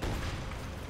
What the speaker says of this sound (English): Some mortar fire.